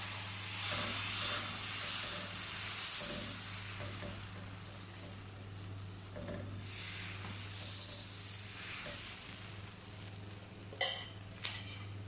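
A jaggery and wheat-flour dosa cooks on a hot, oiled pan, giving a soft, steady hiss and faint sizzle with a low continuous hum beneath and a couple of brief clicks near the end.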